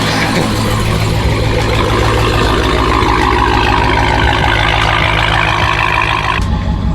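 A loud Dodge Hellcat engine idles and rumbles up close, a deep steady growl that holds throughout with a slight shift near the end.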